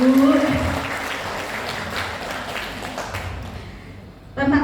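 An audience of parents at a school parenting session claps together. The applause starts loud and thins out steadily, a voice rises over it at first, and a short sound cuts back in at the end.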